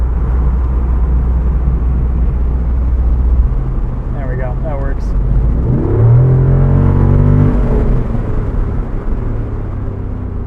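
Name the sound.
2024 Jeep Wrangler 392 Hemi V8 engine rumbling while driving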